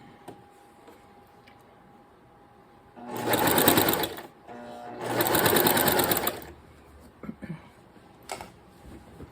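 A sewing machine stitches on binding in two steady bursts, a few seconds each, with a short pause between and quiet clicks afterward.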